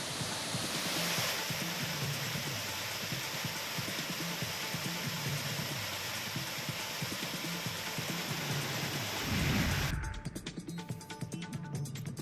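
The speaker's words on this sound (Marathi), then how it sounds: "कडेकपारीतून फेसाळत कोसळणारे धबधबे पर्यटकांचं आकर्षण बनले" Waterfalls on the Konkan coast near Ratnagiri, swollen after monsoon rain, pouring down rock faces as a steady, dense roar of rushing water that stays constant and loud for most of the stretch before shifting near the end.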